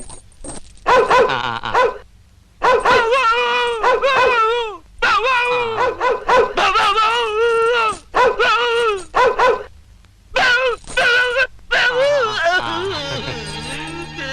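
A person imitates a dog, barking, yelping and whining in loud repeated bursts separated by short pauses.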